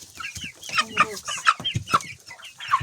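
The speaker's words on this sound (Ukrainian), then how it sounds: "Дивіться, дивіться яка гарна курочка" Hen clucking in a backyard poultry setting, a close series of short, repeated clucks and squawks in an irregular rhythm, fairly clear and without speech over it.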